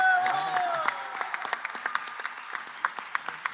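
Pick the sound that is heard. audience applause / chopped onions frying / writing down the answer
audience applause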